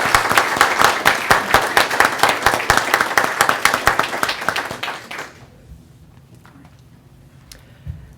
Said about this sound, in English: Let's have a round of applause for Sean.